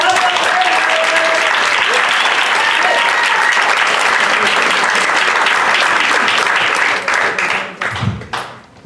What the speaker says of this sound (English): Start clapping up now